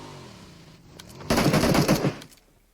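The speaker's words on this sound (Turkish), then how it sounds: "Duydun mu sesi? Ne sesi? Çatışma sesi." Automatic gunfire in the PUBG Mobile video game, a quick rapid burst of shots lasting under a second after a few faint earlier pops, moderately close and loud, with no voices.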